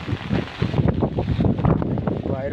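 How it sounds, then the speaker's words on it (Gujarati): Strong morning wind buffets the microphone in rough, continuous low rumbling gusts, loud and close, outdoors near a car. "વાયરો પણ ખતરનાક ચાલુ છે, જોઈ શકો છો તમે"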